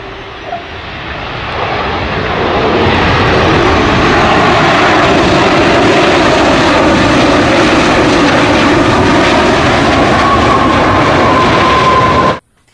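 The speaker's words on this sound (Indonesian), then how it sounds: "Ini adalah pesawat terbang." A toy airplane droning with a steady engine-like roar that swells in over the first few seconds, holds loud and continuous, then cuts off abruptly near the end.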